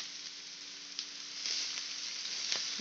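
Chopped onion frying in a pan for soya keema gives a steady, dense sizzle with faint crackles, heard alone and close.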